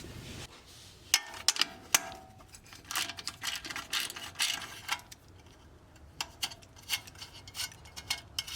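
A ratchet wrench clicks in quick, sharp bursts while loosening the two nuts on an Audi brake caliper cover, close and fairly quiet, with short pauses between runs of ticking.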